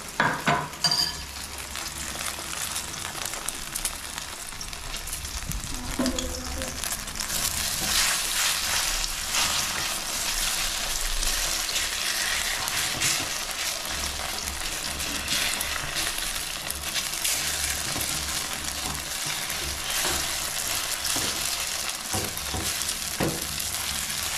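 Scrambled eggs sizzle and crackle loudly in a smoking-hot pan, stirred continuously with occasional utensil scrapes and taps, close and sustained throughout.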